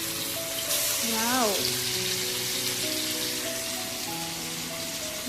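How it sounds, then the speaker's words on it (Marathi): Tamboshi fish fries in a pan with a continuous close sizzle like steady rain, while a voice briefly rises and falls over it. "चला तर आता आपण फिश फ्राय करून घेऊया"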